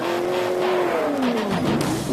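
A race car engine screams at high RPM above 6,000, a loud sustained whine that rises and falls as it revs, with a faint tire squeal mixed in.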